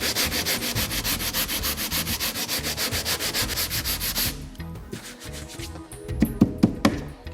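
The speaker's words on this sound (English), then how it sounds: "so I'm putting all my body weight into rubbing it down." Damaged car paint is hand-sanded with firm body-weight strokes, giving a loud, rhythmic back-and-forth rasp for about four seconds, then quieter rubbing and a few light taps.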